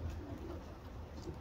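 Soft, low cooing of young racing homer pigeons murmurs steadily throughout, a quiet continuous rumble of several birds close by with no talking.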